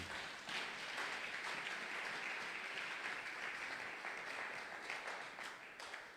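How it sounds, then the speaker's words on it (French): Church congregation applauding and cheering loudly at a Sunday worship service, a dense steady wash of clapping and shouts lasting throughout. "Est-ce que vous pouvez acclamer très fort pour la gloire de Jésus?"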